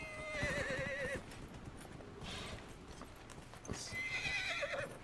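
A horse in the video game Dragon Age: Inquisition whinnies loudly twice, with a steady clatter of hooves running underneath throughout.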